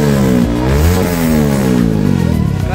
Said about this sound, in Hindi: अभी आप लोग इसका एग्जॉस्ट साउंड सुनना भाई